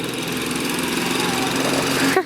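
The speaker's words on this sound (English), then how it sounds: "Well, it works. It's mowing our lawn." Riding lawn mower running while mowing a lawn, a loud steady engine drone close by for a couple of seconds, with a brief bump near the end.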